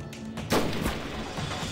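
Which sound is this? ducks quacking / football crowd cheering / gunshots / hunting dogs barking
gunshots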